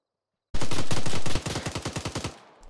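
Automatic gunfire in ArmA 3, a loud close burst of rapid rounds running together, then a slower string of about nine distinct shots tailing off, with no talking.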